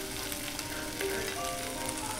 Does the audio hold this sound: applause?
no